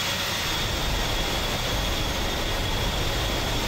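Steady, loud roar of an A-10C jet engine in the DCS World flight simulator, a constant broadband whine and rumble with no breaks.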